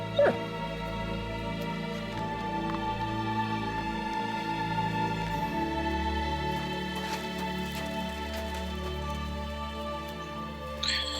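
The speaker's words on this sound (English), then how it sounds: "Silly doggy. Good boy." Dog in the video game Kingdom Come Deliverance 2 barking and whimpering, a steady moderately loud presence over continuous game ambience and music with short yips toward the end.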